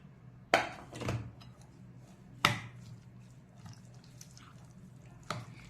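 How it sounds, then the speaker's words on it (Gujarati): Chopped coriander, capsicum and onion being mixed together at close range, with a few sharp clatters and soft, squishy stirring sounds against a quiet background. "હવે આ બધું પહેલાં આપણે મિક્સ કરી લેવાનું."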